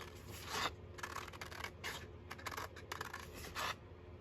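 Scissors snip around a circle traced from a saucer on paper or card for handmade journal pockets, giving short repeated crisp cutting bursts in an uneven rhythm, close and fairly quiet.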